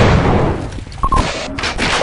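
Submachine gun fire in Team Fortress Classic, a loud cluster of gunshot bangs over a noisy battle backdrop, closely spaced and fairly near, with no speech.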